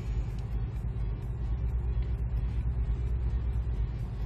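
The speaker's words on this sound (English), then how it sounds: "The truck sounds good." Truck engine in American Truck Simulator on Interstate 5 heading toward Los Angeles, a steady low diesel rumble droning evenly throughout with no talk over it.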